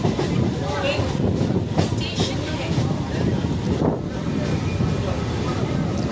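A suburban train running toward Howrah enters Belur station, its steady rumble and clatter filling the clip loudly alongside rushing wind noise on the microphone.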